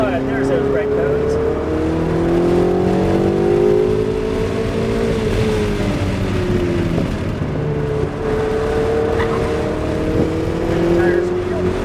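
A Ferrari 488 engine on a track drive, heard from the passenger seat as a loud steady drone with rising and falling revs through acceleration and braking, continuous for the whole stretch.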